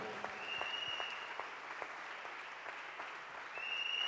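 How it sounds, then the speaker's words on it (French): Church congregation clapping hands in praise of Jesus, a dense steady round of applause with the crowd sustained throughout and swelling slightly near the end. "Clap your hand for Jesus"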